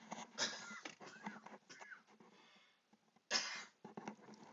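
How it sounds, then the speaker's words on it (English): Two sharp coughs, one early and one near the end, with quiet throat noises and rustling between them, close and fairly soft. "I'm going to cough."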